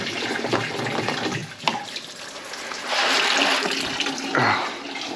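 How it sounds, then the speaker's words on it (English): Coolant drains out of an Audi A6 C6 4.2 V8 engine during intake manifold work. Liquid splashes and pours in uneven bursts, close and fairly loud, with a stronger gush near the end. "I'm draining the coolant out because I also have a new reservoir coming."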